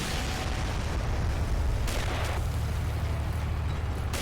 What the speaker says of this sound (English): they just got blew up by some grey artillery